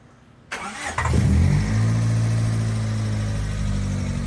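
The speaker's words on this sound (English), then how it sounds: "Let's have my colleague start the car so we can take a video from the outside." A Honda Civic VTi with a D16z6 engine and Crower parts starts up: a short cranking burst, then the engine catches and settles into a loud, steady idle, heard from outside the car.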